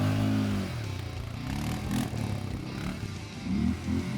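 Loncin X-Wolf 550L ATV engine pulling in low gear off-road, a steady close low-pitched drone with mechanical clatter and a few swells in load, no talk.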